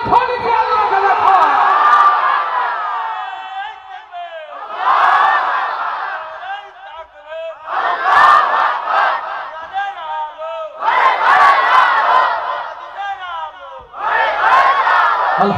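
A large crowd at an Islamic religious gathering shouts the takbir in unison, loud massed voices rising in repeated chanted bursts with short pauses between them.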